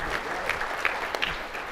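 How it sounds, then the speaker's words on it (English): Audience applause at a mortgage technology presentation, a steady wash of many hands clapping at moderate distance for a couple of seconds, with a few sharper individual claps standing out. "A round of applause."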